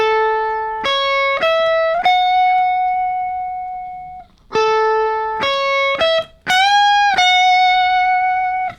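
A guitar plays a short phrase from a song's solo: a few clean sustained notes, one bent upward, then the phrase repeated with plain notes, loud and alone.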